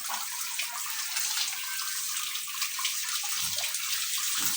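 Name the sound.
strong water flow from deep well pipe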